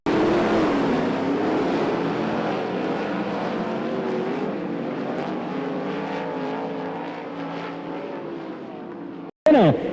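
Dirt track race cars at Watsonville roar past in a loud, continuous engine drone that rises and falls as they race for the lead, and the sound cuts off abruptly near the end.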